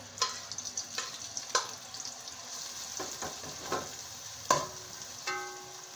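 Onions sauté quietly in oil with scattered pops and crackles, a few sharper snaps standing out against a soft background hiss.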